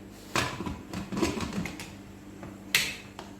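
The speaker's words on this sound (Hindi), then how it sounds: "अब मैं प्रेशर कुकर को बंद करूंगी" A pressure cooker lid is closed in a home kitchen during beef cooking, giving a few sharp metallic clicks and clacks with a loud snap near the end, close by and without talk.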